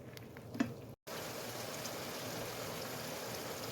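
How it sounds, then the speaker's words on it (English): Frozen ground meat simmers in water in a pan, a steady bubbling, hissing simmer that runs continuously after a brief cut, close and fairly soft. "I just put water in the pan and it'll cook like that"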